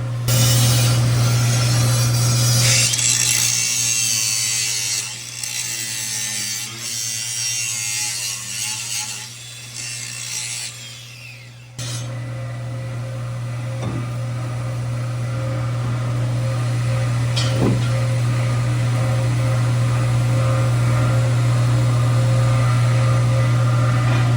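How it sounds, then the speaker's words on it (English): An angle grinder grinds out a tack weld on a 1946 Chevy during a 12-valve Cummins swap. The loud, steady whine runs the whole time with a constant hum beneath it, and the pitch and roughness change as the wheel bites. "So I'm just going to get the grinder and grind that out."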